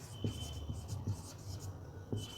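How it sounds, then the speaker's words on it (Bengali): A pen scratches continuously across paper while a sentence is written out by hand, with short strokes and taps at an even, close-up level. "দেখো আমি এই বাক্যটাকে পুরো লিখছি"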